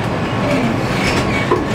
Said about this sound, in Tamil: Train கிளம்பிச்சு, train கிளம்பிச்சு.